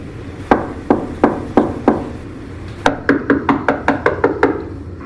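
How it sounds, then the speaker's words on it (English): Loud knocks on a door: five slow, heavy raps, then a faster series of about nine sharp knocks, each crisp and close. "you hear a loud knock or a series of knocks on your front"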